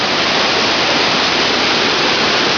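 Loud, constant roar of the rushing Mekong River, a dense unbroken wash of noise with no voices.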